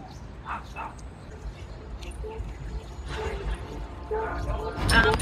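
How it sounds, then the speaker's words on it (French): Several dogs yip and bark at a distance in an open outdoor dog park in New York, with a soft background hum and some voices nearby. "Il y a beaucoup de chiens."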